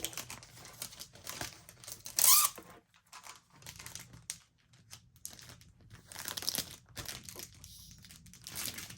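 Crinkly cellophane bag handled while packing an online shop order, with soft rustles and crackles throughout and a sharp louder crinkle burst near the start, then quieter handling noises, no talking.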